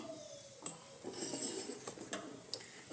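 Milk powder mixture for basundi being stirred in a pot over a gas stove, with a spoon clinking and scraping against the metal several times at an uneven pace, close and fairly quiet.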